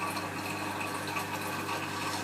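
An aqua one protein skimmer pump on an aquarium runs after being switched back on, a steady, even hum with a faint flowing water hiss and no voices.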